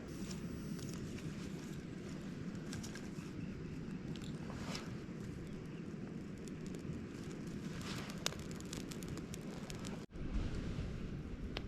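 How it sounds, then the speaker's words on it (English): An outdoor campfire burns with a soft, steady crackle and rushing hiss, quiet and continuous, with occasional small pops and a brief dropout near the end. "Now that the fire's going pretty good"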